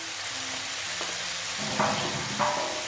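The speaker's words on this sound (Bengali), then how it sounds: "এবার আমি মটরগুলো যে আমি সেদ্ধ করে রেখেছি এই মটরগুলো এখন দিয়ে দেব" Boiled peas go into sizzling, well-fried masala for ghugni, making a continuous hiss of frying with a couple of brief stirring scrapes.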